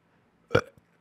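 A person sneezes once, a sudden sharp burst lasting under a fifth of a second with a small catch right after, close and clear in a quiet room.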